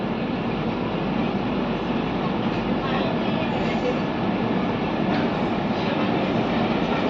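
Murudeshwar–Kacheguda Express pulled by a WAP-4 electric locomotive, heard as a continuous loud rumble and roar of a passing train, steady and close throughout with no pauses.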